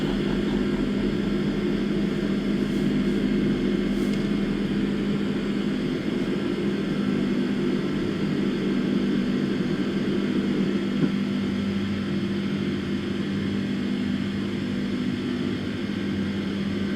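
Airliner climbing away after takeoff in Microsoft Flight Simulator 2024: a steady, loud engine drone with a constant low hum, unbroken throughout.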